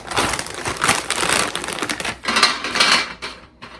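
Dry pretzels rattle and crinkle as they are spread across a nonstick cookie sheet, making a continuous close, scratchy clatter with a few louder bursts. No talking.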